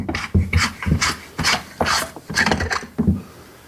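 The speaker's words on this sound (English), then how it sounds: "So you remove this by just unscrewing the whole tube." The threaded tube of a battery-powered grease gun being unscrewed by hand, giving a close, dry rasping and scraping in uneven strokes with brief ratchet-like clicks, repeating about every half second.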